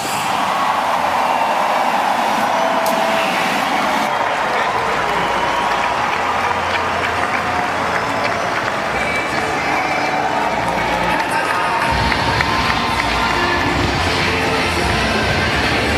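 A large crowd applauds and cheers loudly and continuously at the Miami Open women's tennis trophy ceremony, with a busy roar and a faint announcer-style voice mixed in.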